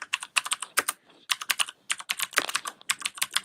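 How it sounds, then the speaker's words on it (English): Rapid, uneven clatter of keys on an early-2000s IBM computer keyboard, typed close up in bursts with brief pauses and no voices. "Do you like my typewriter?"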